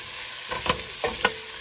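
Vegetables for sambar, including Bombay onion, drumstick and eggplant, frying in a pan with a steady sizzle broken by a few stirring scrapes, close and clear with no talk.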